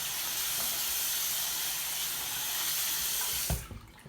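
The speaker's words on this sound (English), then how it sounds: "Rinse it under water." Folded paper rinsed under a running kitchen tap, a steady close hiss of flowing water splashing on it that breaks off near the end as the stream is shut off or the paper moves away.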